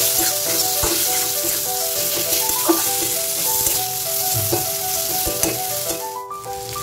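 Ginger garlic paste with Kashmiri chilli, turmeric, cumin and coriander powders sautéing in a pan for a pomfret curry, giving a steady close sizzle with light stirring scrapes and clinks throughout.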